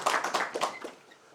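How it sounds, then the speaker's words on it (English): Audience applause for a panel at a Highlands and Islands roadshow event: a short burst of clapping from a modest crowd, several sharp overlapping claps that fade out within about a second. "could you give them a wee round of applause"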